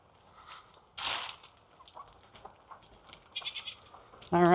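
Farm goats bleat near a tiny house build site, with scattered rustling and munching sounds before one loud, close bleat at the end.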